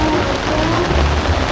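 Rain falls steadily on umbrellas and surfaces at an outdoor 50th annual Back to the 50's weekend car show. The downpour is a loud, continuous wash throughout, with no talking.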